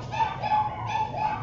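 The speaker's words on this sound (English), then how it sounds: "I apologize if you can hear my dogs joining us in the background worshiping." Small dogs yip and whimper faintly in the background of a Sunday church worship service held at home, in a short steady burst.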